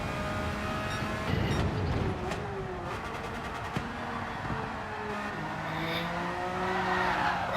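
A race car in a racing video game spinning out, engine tones rising and falling through the spin with a brief skid and tire squeal, then the motor revving back up, moderately loud and steady.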